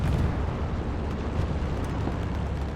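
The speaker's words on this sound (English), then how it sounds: "Great use of a grenade there." A grenade explosion in a multiplayer video game match, a dense low rumbling roar that stays loud and steady, with broad noisy debris and no voices.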